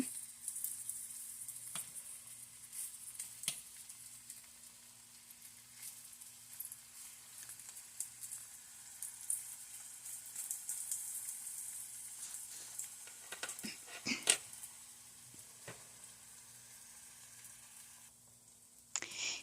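Barbecue sausage frying in a pan gives a soft, steady sizzle that runs the whole time with faint crackles, a low background hum, and a few brief clatters of handling.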